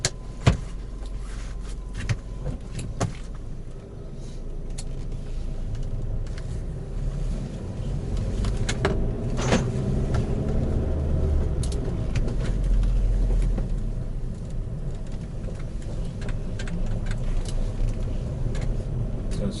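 A manual-transmission car pulls away and drives, its low engine rumble building steadily and droning on at low revs with no talk.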